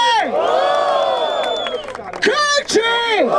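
A crowd at the Batalha da Aldeia rap battle in Barueri cheers and whoops loudly, with several long rising shouts up close that break off and then return in short bursts.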